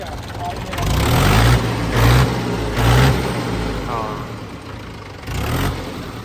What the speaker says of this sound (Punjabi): ਜੱਗੂ ਬਈ ਸਟਾਰਟ ਕਰਕੇ ਦਿਖਾ ਆਵਾਜ਼ ਚੈੱਕ ਕਰਉਣੀ ਜ਼ਰੂਰੀ ਆ